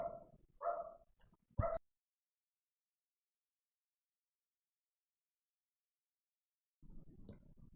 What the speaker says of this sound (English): And dogs are barking.